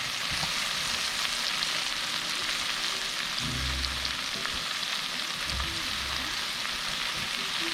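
Mushrooms frying in a pan with a little salt, giving a steady, loud sizzle throughout, with a few low clatters of the pan partway through and no talking.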